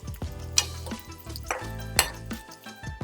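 Onions frying on a low flame in a pan as a utensil stirs them, with soft scraping, a couple of sharp metallic clinks and a gentle sizzle, close and fairly quiet.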